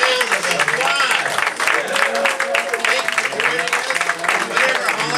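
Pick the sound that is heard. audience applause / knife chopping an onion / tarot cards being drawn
audience applause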